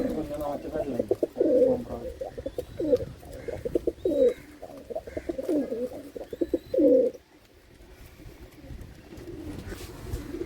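Racing pigeons at a loft coo in repeated low throaty bursts close by, about eight calls over the first seven seconds, with a person talking faintly and quieter ambience afterward.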